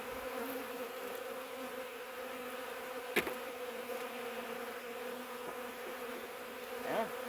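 Honey bees buzz around a hive during a March hive inspection, a dense continuous drone of many wings with individual bees whizzing close past now and then; fairly faint overall, no talking.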